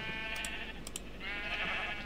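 A sheep in Minecraft gives a short bleat, a wavering nasal cry lasting about two seconds, heard up close and alone over a low background hum.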